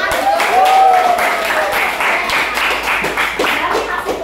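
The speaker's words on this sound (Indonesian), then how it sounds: "Tepuk tangan." Students in a classroom clap together after a drama activity, a lively burst of uneven, close handclaps that tapers into scattered claps, with some voices mixed in.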